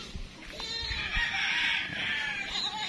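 Texas gamefowl roosters in a chicken pen crow and cluck nearby, one drawn-out crow rising clearly over soft scattered clucks and farmyard shuffling.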